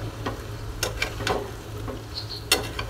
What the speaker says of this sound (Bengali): এই পর্যায়ে এখন আমি এই যে সবজিগুলো দিয়ে দিব। তো সবজিগুলো দিয়ে আমি আবার একটু নাড়াচাড়া দিয়ে নিব।